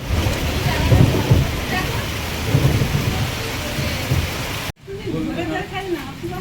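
A thunderstorm with steady heavy rain; several deep thunder rumbles roll through the downpour, then after a sudden cut the rain continues with voices talking over it.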